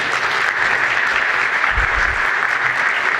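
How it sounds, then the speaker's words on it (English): Steady, loud applause from an audience at a high school dedication ceremony fills the entire span without a break, with no talking heard over it. "Let's give them another round of applause, please."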